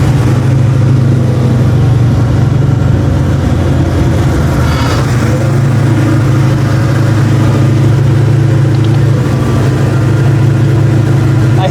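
A 1989 Ford Mustang notchback with a freshly rebuilt carburetor idles high at around 2000 RPM, giving a loud, steady, droning engine hum that holds constant throughout with no voices.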